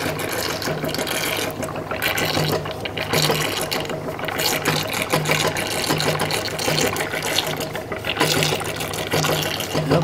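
Water splashes and washes steadily over a rattling, vibrating gold bump-sluice shaker table, a continuous loud mix of running liquid and mechanical clatter with no voices.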